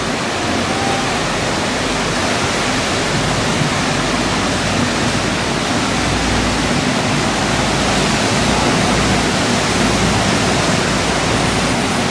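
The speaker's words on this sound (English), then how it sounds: "This is just some of the end of the rapids." Rapids at the end of the run into Devil's Hole roar as a steady, loud wash of rushing water, dense and unbroken for the whole stretch with no voices.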